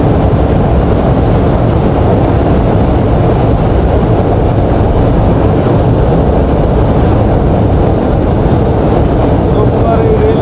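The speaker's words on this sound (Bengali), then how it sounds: "এই যে যমুনা সেতু পার হয়ে আমরা ছুটে চলছি" Banalata Express train crossing the Jamuna rail bridge between Tangail and Sirajganj, heard from inside the moving carriage as a loud, steady roar of wheels and rumbling rails that continues unbroken throughout.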